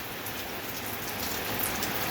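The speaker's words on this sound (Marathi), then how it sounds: "बघा पाऊस किती पडतोय" Heavy rain pouring outdoors in a village during rice planting season, a dense continuous hiss of drops on surfaces, steady and moderately loud with no voices.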